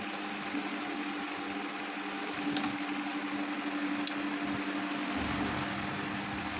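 A cutting machine slicing a mobile phone back protector gives a steady mechanical hum and whir with faint tonal drone, broken by two brief sharp clicks, alone and close.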